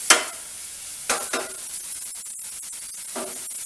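Garlic frying in a pan until crisp and brown, a soft steady sizzle with a few sharp stirring scrapes of a spoon against the pan.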